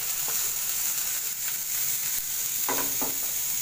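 Onions and tomato sauté in a pan over a medium flame with a loud, continuous sizzle, broken by a few scraping stirs of a spatula.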